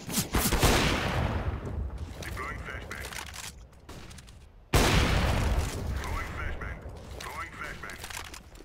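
Dense bursts of rapid gunfire crackle loudly and continuously in the game CS:GO, with a short lull before another sustained barrage of shots and mechanical clatter.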